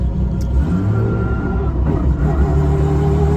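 A car with a V160 manual transmission fitted with a torque converter accelerates hard, its engine giving a steady loud rumbling drone heard from inside the cabin.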